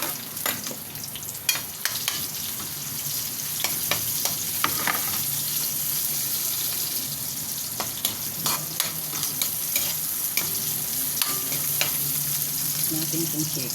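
Chicken pieces for a chicken curry sauté in a pan, a steady close sizzle broken by repeated scraping stirs throughout, with no talking.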